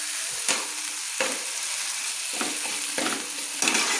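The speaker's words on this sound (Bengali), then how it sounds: "আদা রসুনের কাঁচা গন্ধ চলে যায়, তার জন্য তেলে আমি কষিয়ে নিচ্ছি" Ginger and garlic frying in oil in a pan, a steady close sizzle broken by several bursts of stirring and scraping, with no talking.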